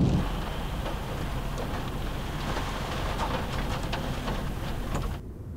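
Steady rain and a thunderstorm on the Island in the Sky mesa in Canyonlands National Park, with lightning and sporadic hail. A dense, even wash of rain runs close and loud throughout, with no distinct thunder crack, then cuts off abruptly near the end.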